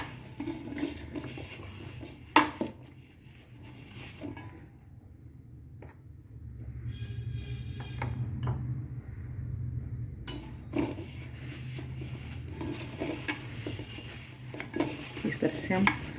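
Grated radish and flour dough being kneaded and squeezed by hand in a bowl, a soft, low, continuous rubbing and squelching with occasional sharp clinks of a utensil against the dish, alone and close by.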